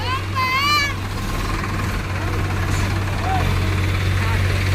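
A tractor engine idles with a steady low rumble after being pulled free from an accident, droning continuously while voices talk and call out nearby.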